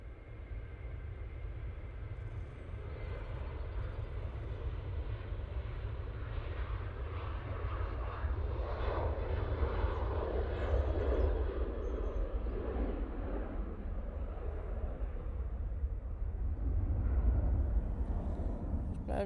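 A Ryanair airliner takes off at Manchester Airport, its jet engines a broad, distant roar that builds and holds steady through the take-off roll.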